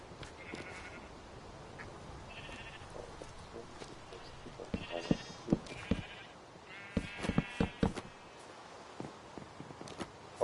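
Sheep in Minecraft bleat repeatedly in short bursts, several in a row and overlapping, with clicks and faint game noise between them.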